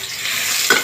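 Garlic sizzles as it fries in a pan, a loud, close, hissing crackle that fills a brief moment, with a sharper spatter near the end.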